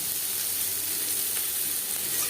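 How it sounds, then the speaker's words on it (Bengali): Two medium onions hit hot oil for a masoor dal dish with chichinga, producing a steady, dense, close sizzle that holds evenly without pause. "মিডিয়াম সাইজের দুটো পেঁয়াজ আমি অ্যাড করলাম"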